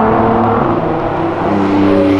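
Nissan GT-R accelerating along an avenue, a loud, continuous engine roar close by with steady tonal drone that swells slightly toward the end, no talk over it.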